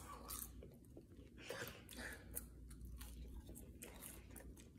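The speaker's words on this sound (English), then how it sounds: "let me try these fries," Seasoned curly fries being chewed close up, with steady soft crunching and mouth sounds repeating throughout, no talking.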